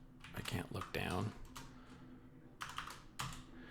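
A computer keyboard is typed on while someone works through a cryptography capture-the-flag challenge, giving quiet clicks in irregular bursts with a short pause in the middle and some voice mixed in.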